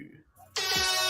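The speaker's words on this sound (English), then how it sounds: "Where's my motherfucking air horn?" A DJ air horn sound effect blasts in loud and sustained after a brief shouted voice, a bright, harsh blare that holds steady to the end.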